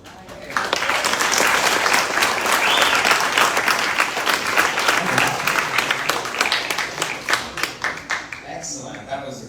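A crowd at a workers' strike launch event breaks into loud, dense applause that swells quickly and holds steady, then thins into scattered individual claps near the end.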